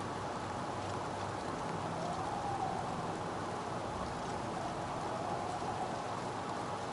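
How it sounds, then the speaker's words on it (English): Steady, even rain patters without a break in a video game, likely Oblivion, a dense hiss of drops that stays at the same level throughout. "just listen to that rain patter"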